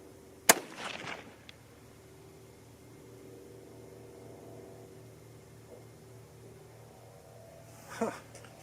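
A 6.5 Creedmoor rifle firing a 120-grain bullet: one sharp, loud crack near the start that fades quickly, then a quiet hum, with a second fainter burst near the end.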